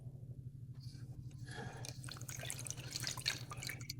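Sour liquid from a jar of decomposing bread pours out in a soft, continuous trickle with small drips and splashes over a low steady hum, quiet and close, with no talking.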